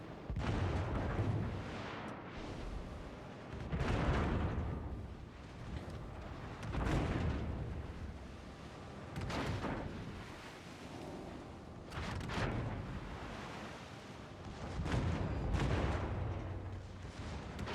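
Naval artillery fire from warships in the World of Warships video game: repeated deep, rumbling gun booms and explosions roll in every couple of seconds, moderately loud and continuous, with no speech over them.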